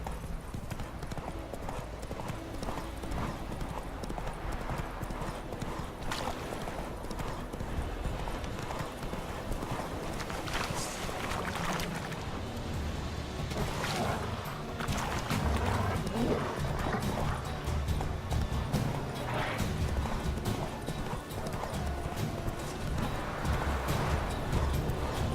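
Horse hooves clip-clop steadily through a Witcher 3 video game scene, a continuous rhythmic trot layered over music and ambience, with a voice speaking over it.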